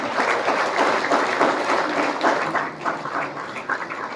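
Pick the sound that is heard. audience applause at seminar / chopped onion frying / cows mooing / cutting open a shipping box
audience applause at seminar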